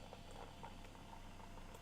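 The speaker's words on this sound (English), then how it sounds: "Straight pour, sacrilegious, I know, but I want to get all that gas out." Dragon's Milk stout straight-poured into a glass, giving a steady fizzing, bubbling pour that runs without pause at moderate level, with no voices over it.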